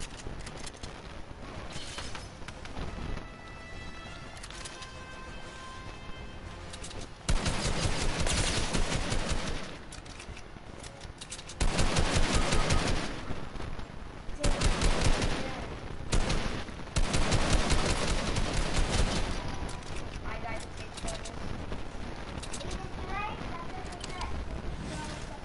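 Rapid bursts of video game gunfire crack through loud music and game noise, with clusters of shots coming in waves while a player talks over the action.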